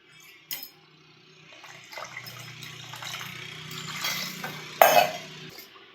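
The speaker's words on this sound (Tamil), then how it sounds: "இதுக்கு தகுந்த தேவையான அளவு தண்ணி ஆட் பண்ண போகிறோம்." Water pouring and swirling into a bowl of whisked curd for buttermilk for a few seconds, ending with a brief clunk, in a quiet room.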